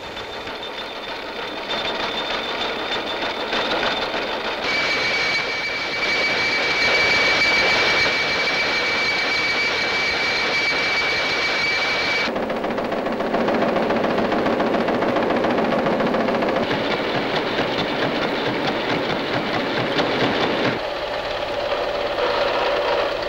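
Factory machine tools drilling the 42 holes in car engine crankcases on a 1938 Citroën Traction Avant production line, a loud continuous high-pitched mechanical whine with shifting tones and abrupt changes in texture, no voices.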